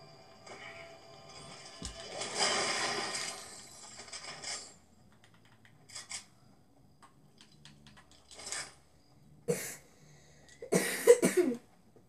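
Coughing from someone who has been sick with a stuffy nose and cough, heard as several short, fairly close coughs and throat sounds spread unevenly across a quiet stretch.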